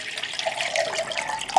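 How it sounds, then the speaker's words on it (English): Cold water pours steadily into a GSI Soloist pot, a close splashing, gurgling stream lasting under two seconds with no talk. "And I'm going to pour the cold water."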